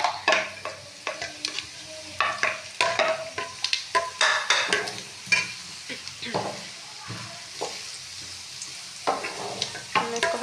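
Cumin seeds sizzle in hot ghee while being stirred in a pan, with a steady crackling fry and scraping stir strokes throughout, close and fairly loud, with no talk.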